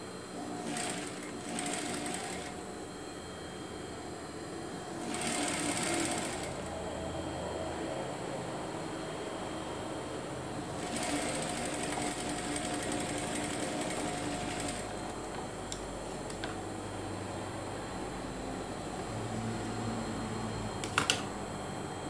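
A sewing machine runs in steady bursts while stitching a seam on a Curupira costume, moderately loud with short pauses between runs and no talking.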